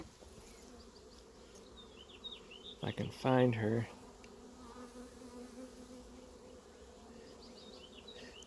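Honey bees buzz steadily around an open hive, a faint close drone with a brief louder burst of buzzing near the middle while someone speaks quietly.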